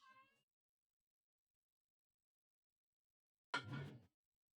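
A house cat meows twice nearby, once briefly at the start and again more loudly about three seconds later, with silence between and no talking.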